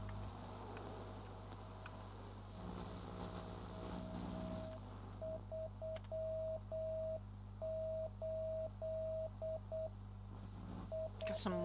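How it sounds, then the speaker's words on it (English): Morse code beeps over radio static, a steady tone keyed on and off in short and long bursts above a constant hiss and low hum, clear and sustained. "Got some Morse code."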